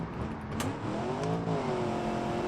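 A Viper concept car with an American-sounding engine revs in the Automation racing game, a steady mid-loud drone whose pitch rises and dips across a couple of seconds.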